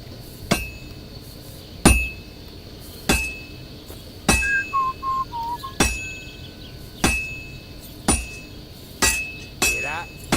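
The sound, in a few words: hammer striking heated metal on anvil in the video game Kingdom Come: Deliverance 2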